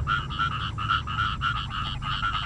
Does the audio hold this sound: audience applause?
no